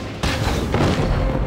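A loud, rumbling explosion of barrels in the video game Genshin Impact bursts in suddenly and keeps booming, with a second blast layered in as more barrels go off.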